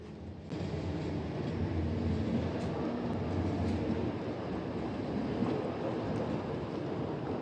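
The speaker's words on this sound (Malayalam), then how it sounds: "അതാ ട്രാം പോണു." A tram passing on a street in Brussels, a steady low rumble and rolling roar that rises quickly and holds fairly evenly, heard from nearby with no voices over it.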